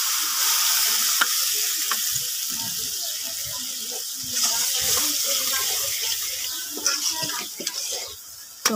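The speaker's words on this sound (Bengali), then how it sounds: "কষানোর জন্য একটু পানি দিয়ে দিলাম।" Water poured onto chili and turmeric powder sizzling in a pan makes a gushing, hissing burst, then a steady bubbling sizzle with faint stirring clinks and a sharp clatter at the end.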